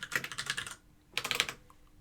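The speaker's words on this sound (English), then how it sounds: "I'll wait for the keyboard to catch up." Rapid typing on a computer keyboard: a quick burst of close, clicky keystrokes, a brief pause, then a second short flurry of taps.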